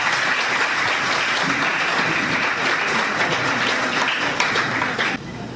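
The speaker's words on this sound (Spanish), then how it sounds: "Recibámosle con un aplauso." Sustained audience applause at a ceremony presenting the Duarte constitution project, a steady, dense roar of many people clapping at close range, continuing evenly for several seconds before dropping off abruptly at the end.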